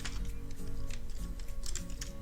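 Close, quick clicking of computer keys as a short command is typed, a rapid irregular patter of keystrokes with no talking.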